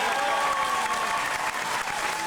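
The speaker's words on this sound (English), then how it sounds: "Give him a big round of applause, everybody." A live audience gives a big, sustained round of applause at a stage show, dense clapping filling the whole stretch at steady loudness with a faint crowd murmur beneath.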